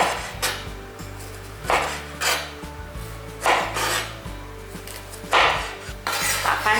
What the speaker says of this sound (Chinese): 随意的切成块状